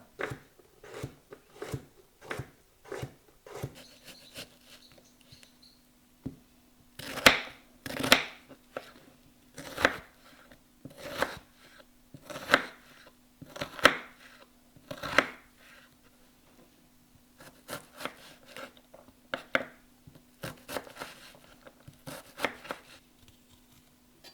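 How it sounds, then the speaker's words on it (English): A knife chops and slices garlic cloves steadily on a cutting board, sharp taps coming in quick bursts with brief pauses, close and clear with no talking. "peeling and grating the ginger, and chopping and slicing 4 garlic cloves"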